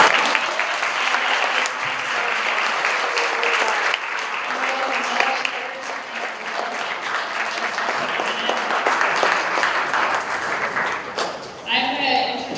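Sustained audience applause fills the room at an education event, a dense steady clapping wash lasting throughout, with faint voices beneath and a brief drop near the end.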